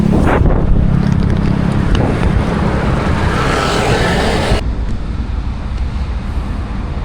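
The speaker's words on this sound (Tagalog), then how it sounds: "Medyo mahangin na dito." Wind buffets the microphone in a heavy, low rumble, loud for most of the clip before easing slightly near the end.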